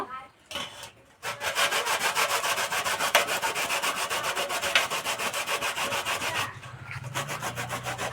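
Cauliflower rubbed across a perforated plate for vegetable kofta, giving a near, steady rasping scrape in rhythmic back-and-forth strokes with a short pause near the start.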